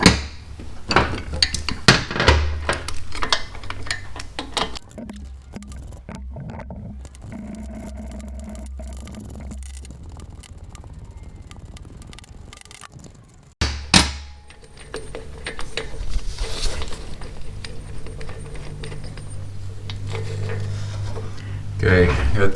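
Metal clanks, taps and scraping as a rusty bolt, washer and nut are worked out of the front engine mount on a 2006 Harley-Davidson Ultra Classic motorcycle, intermittent close knocks with quieter stretches and a loud burst partway through.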